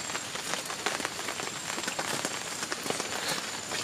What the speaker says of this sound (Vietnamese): Trời mưa kìa mọi người.